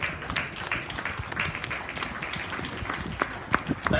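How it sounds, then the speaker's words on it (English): Scattered clapping from a crowd at a county fair beef show, a loose round of applause with a few sharper claps near the end, fairly close. "I think we need to give another round of applause"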